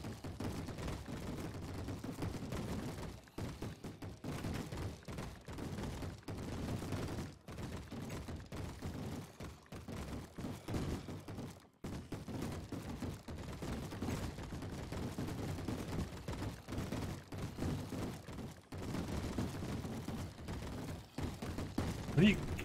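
Mobs in the Minecraft modpack Crafting Paradise pound on a door in a continuous barrage of dense, overlapping thuds that runs steadily for over twenty seconds at moderate loudness.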